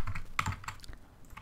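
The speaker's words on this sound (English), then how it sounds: "I'm sorry about the keyboard" Close, crisp keystrokes and clicks from a computer keyboard, struck hard during Minecraft play, in a short burst of several taps that fade toward the end.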